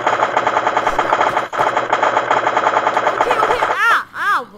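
Automatic gunfire in the Minecraft Crafting Dead game, a loud sustained burst of rapid shots with one brief gap, then a couple of sweeping warbling effects at the end.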